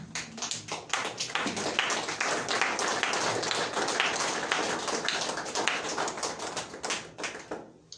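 A church congregation applauds steadily for several seconds, with dense overlapping hand claps at close range that fade out toward the end.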